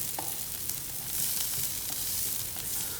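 Onions and crushed garlic sauté in a pan for canned tuna croquettes, a dense continuous close-up sizzle with faint stirring scrapes, steady and without talking.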